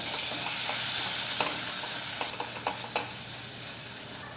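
Spice masala with cumin powder, garam masala, turmeric and kitchen king frying in a pan for lasuni methi shaak, a steady close sizzle broken by several scraping stirs of the spoon.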